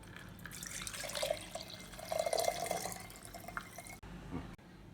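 Panakam, a sweet drink prepared as a Sri Rama Navami offering, being strained, heard as soft trickling and dripping liquid at close range, steady and fairly quiet, with a couple of small knocks near the end.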